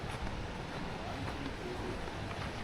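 Strong amihan monsoon wind roars steadily and loudly across the microphone near a small boat on the sea, a dense, unbroken rushing blast with no pauses.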